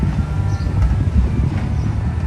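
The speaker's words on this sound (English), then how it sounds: "That will probably be the last train I see." A CSX train rolls past close by with a heavy low rumble and uneven rhythmic clatter of wheels over the rails.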